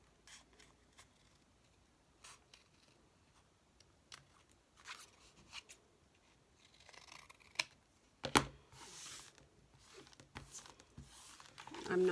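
Paper being trimmed with scissors while making a handmade journal: scattered soft snips and crinkles, fairly faint and close, with a louder burst of rustling near the end.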